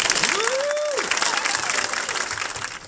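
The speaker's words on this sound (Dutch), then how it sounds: "mag ik voor deze 3 gedreven vrijwilligers uw hartelijk applaus" An indoor audience at a volunteer award ceremony in Epe claps warmly for three volunteers, a dense, steady wash of applause close to the microphone with a brief whistle rising through it.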